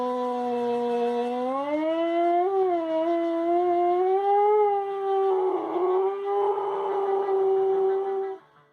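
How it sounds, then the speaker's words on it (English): Pet dog howls along with a song in long, wavering, sustained tones that rise and bend, close and loud, continuing for several seconds before stopping abruptly. "my dog did his first howlies when he heard this song"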